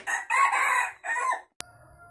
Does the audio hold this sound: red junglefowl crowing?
yes